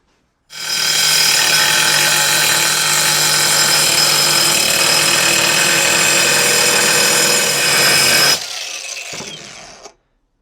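An angle grinder fitted with a diamond blade cuts through tile in one loud, continuous, high-pitched whine that holds steady for about eight seconds, then drops and spins down to silence.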